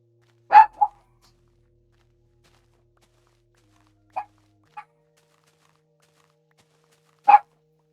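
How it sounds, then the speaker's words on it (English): A dog barks a few times, short isolated yaps separated by long silences, fairly near and otherwise alone. "Why's he barking?"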